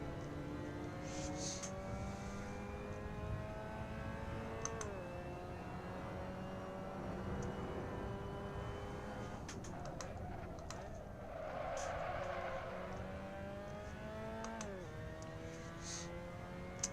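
Mazda MX-5 race car in Assetto Corsa, engine revving up and down through repeated gear shifts in a continuous stream, with faint keyboard tapping in the background.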